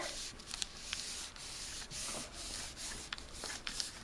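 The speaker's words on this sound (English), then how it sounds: "Rub that in again real well." Paper being rubbed by hand onto a gelli printing plate, a steady soft brushing and scuffing in repeated back-and-forth strokes, close and fairly quiet.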